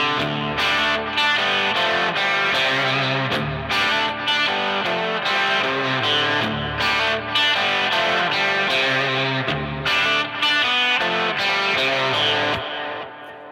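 Distorted electric guitar in drop D tuning, played as loud, continuous chords and riffs with effects, steady throughout with no talking.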